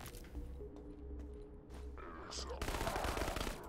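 Shotgun blasts and gunfire crackle in the video game Krankenheit, a burst of loud shots building toward a dense volley at the end, with faint in-game sounds between.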